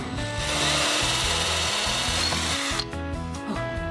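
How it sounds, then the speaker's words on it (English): An electric drill grinds steadily through wood on a boat close up, loud and continuous, easing off briefly near the end before biting again. "Gonna start with a small drill and then go for the big one."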